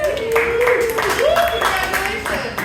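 A comedy club crowd claps and applauds a stand-up comedian's announcement that he and his wife are expecting their first child, a brief loud burst of clapping while a voice speaks over it.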